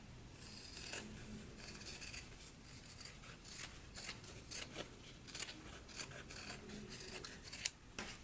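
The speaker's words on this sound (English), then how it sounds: "Now let's go ahead and trim our seam." Scissors trim a sewn fabric seam on a jacket being made from a sewing pattern. The crisp snips come close and fairly quiet, in a steady run of repeated cuts about every half second, with no talk.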